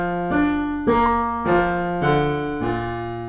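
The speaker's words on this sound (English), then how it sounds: "the trombone solo, which starts the movement" A solo trombone opens a movement of Mozart's Requiem with a slow, stately phrase of five sustained notes stepping downward, each note clearly separated, rich and resonant, with no accompaniment or talk.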